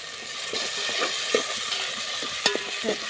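Vajdi (goat tripe) being stirred and roasted in a pan, with a steady frying sizzle and scraping strokes of a spoon and a few sharper clinks against the pan, close up and without talk.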